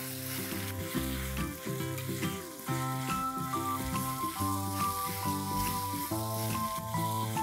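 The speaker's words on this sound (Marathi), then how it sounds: "आणि आता आपण ह्यात घालूया आलं लसणाची पेस्ट. आता आपण हे छान पैकी परतून घेऊ." Ginger-garlic paste sizzles steadily in oil with chopped onion, green chilies and curry leaves for a Kerala-style Malabar fish curry, a constant frying crackle under background music.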